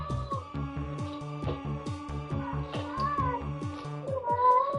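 A cat meows over and over in short, rising-and-falling cries that fall into a steady, almost musical rhythm and sound a bit like a small child. The meows are close and fairly loud, with no talking.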